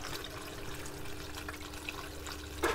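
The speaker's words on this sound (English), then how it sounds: "It goes through those holes there and trickles down" Pumped water trickling down through the holes of a 3D-printed strawberry tower, a steady soft splashing and dripping with a faint hum underneath, fairly quiet throughout.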